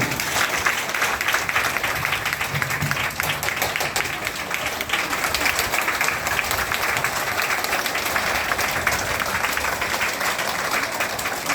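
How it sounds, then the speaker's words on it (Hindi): Loud, sustained applause from a large audience at a Hindi motivational talk, a dense, even roar of clapping that runs steadily throughout without a break. "एक बार जोरदार तालियां बजाइए"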